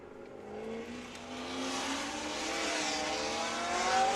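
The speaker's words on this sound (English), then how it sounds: "On track right now, one of the loudest cars in the entire series. John Faulkner in the 21 Camaro." A loud Chevrolet Camaro race car, number 21, runs an autocross course at Laguna Seca, its engine note climbing steadily as it accelerates hard, with a constant roar and no voices.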